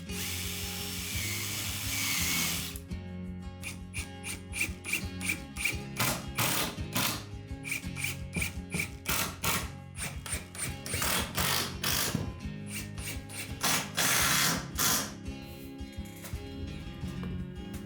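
Screws being driven into a wooden window frame with a power driver, giving rapid ratcheting, clicking bursts in an irregular rhythm, close and fairly loud, with no talking.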